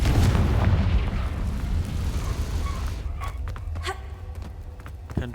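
A booming fire-spell blast in Hogwarts Legacy: a heavy, rumbling explosion that fades out, followed by scattered smaller pops and crackles.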